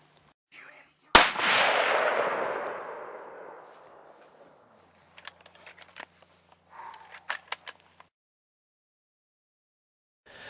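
A single loud rifle shot fired at an elk during a Colorado hunt, a sharp crack with a long rolling echo that fades over a few seconds, followed by faint rustling and small knocks.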